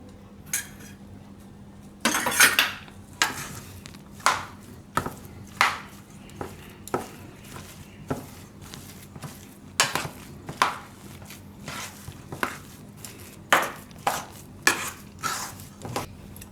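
Potato filling being mixed by hand in a bowl for sandwich bhajiya, a long run of irregular clinks and scrapes of a utensil against the bowl, close and fairly loud with short pauses.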